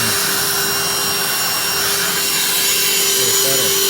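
A wet vacuum sucks up water from a muddy condensate drain pan during a clogged P-trap repair, giving a steady, loud, continuous rushing drone with gurgling texture that runs unbroken throughout.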